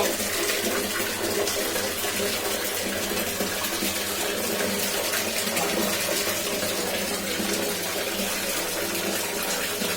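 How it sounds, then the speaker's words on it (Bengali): Hot water gushes steadily from a tap while a child is bathed, a loud, continuous broadband rush of running water that stays close and constant throughout, with no speech over it. "গরম জল বেরোচ্ছে প্রচুর গরম জল বেরোচ্ছে"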